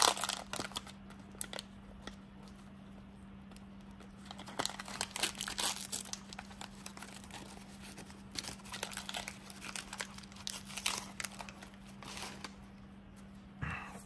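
Sticky 1990 Donruss baseball card wax packs being pried open, close and quiet, with repeated crinkles, crackles and tearing of wax paper in irregular bursts over a faint steady hum.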